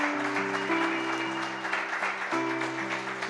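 A church congregation applauds the Lord, a steady patter of clapping spread across the room over sustained organ or keyboard chords that play throughout.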